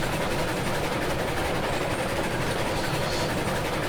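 A train running on rails in the video game Railroads Online, a steady, dense rumble with rolling clatter that continues unbroken and fairly loud throughout, with no voices.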